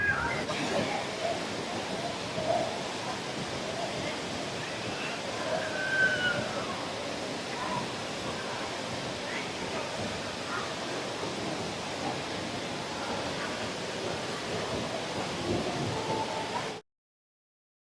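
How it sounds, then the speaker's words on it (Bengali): Kempty Falls in Mussoorie roars as a broad, steady wash of falling water close by, constant and unbroken throughout. "এটা হচ্ছে সেই কেম্পটি ওয়াটারফলস, যেখানে এসে তোমরা স্নানের মজা নিতে পারো"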